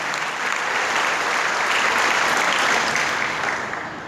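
Congregation in a church applauding together, a full, dense wash of clapping that swells slightly and then eases toward the end.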